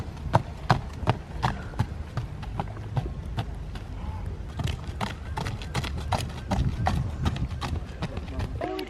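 Horses' hooves clip-clop steadily at an outdoor horse trials event, a run of sharp, fairly close hoof strikes over low crowd murmur, with people talking in the background.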